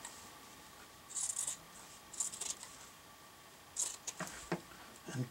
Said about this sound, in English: So now I just take handy dandy scissors.